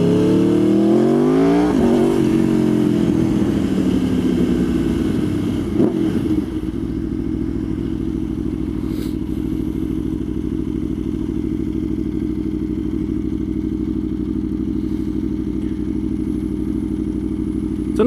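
Aprilia Tuono V4R motorcycle revving up through rising engine pitch, then settling into a loud, steady running drone close by, with a faint clatter now and then.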